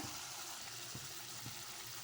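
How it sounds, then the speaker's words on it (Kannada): Water pours into a pot of mutton sambar, a soft, brief gush of splashing liquid heard quietly and alone. "ಇದಕ್ಕೆ ಸ್ವಲ್ಪ ನೀರು ಹಾಕ್ಕೊಳ್ಳೋಣ."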